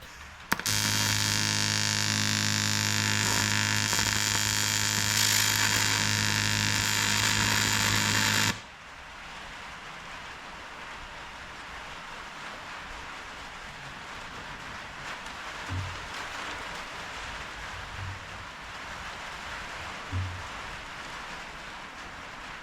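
Tack welding intercooler piping on a Ford Cortina turbo project, a loud, steady, close buzzing arc that lasts about eight seconds and then cuts off, leaving faint shop background with a few soft knocks.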